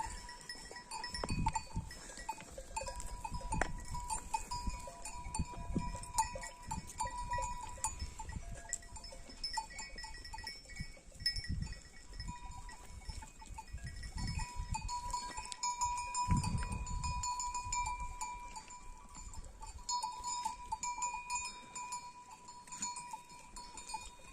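Goats and sheep on a farm pasture, with scattered bleats and clanking cowbells ringing steadily over a low, busy background of hooves and rustling, sometimes near and sometimes farther off.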